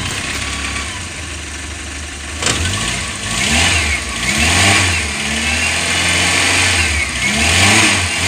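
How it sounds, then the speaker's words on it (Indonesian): Engine of a 1987 Suzuki Carry Extra van, in healthy running order, idling and then revving up and down several times in steady swells, close and loud, with no talk over it. "Mesin sehat, halus, gak ada kendala bos."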